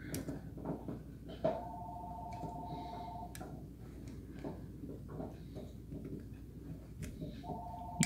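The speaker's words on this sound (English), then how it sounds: "There goes the phone," A telephone rings in bursts of electronic trills, fairly clear in a quiet room with light handling noise, going quiet between rings before starting again near the end.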